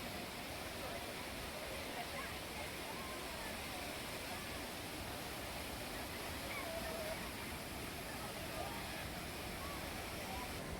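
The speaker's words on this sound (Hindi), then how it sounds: "यहाँ रुक रुक कर तेज बारिश हो रही है, जिससे डैम से ओवरफ्लो होने वाला पानी का बहाव भी बढ़ रहा है।" Rain-swollen water overflowing from a dam at a Lonavala waterfall, a constant broadband rushing roar with no pauses, fairly distant and even in level.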